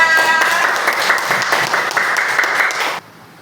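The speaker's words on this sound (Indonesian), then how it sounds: "Kasih tepuk tangan sekali lagi untuk Rasya" A classroom of children claps together in a loud, close burst of applause lasting a few seconds, then cutting off abruptly to near silence.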